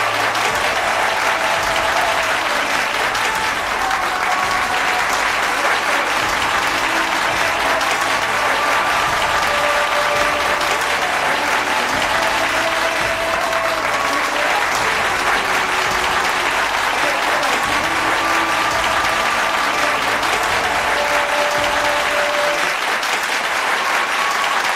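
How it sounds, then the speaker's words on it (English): A large audience at a sangeet night celebration honoring World Cup champion cricketers breaks into sustained, loud, dense applause that continues steadily throughout, with faint background music under the clapping. "A biggest round of applause for Hardik Pandya."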